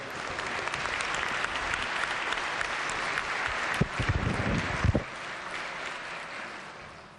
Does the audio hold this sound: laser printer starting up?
no